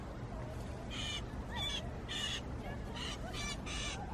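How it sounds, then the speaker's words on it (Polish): A bird calls from its nest high in park trees beside walking paths, giving about six short, harsh, crow-like calls in an irregular series over a steady outdoor background. "Słychać go, ale nie widać."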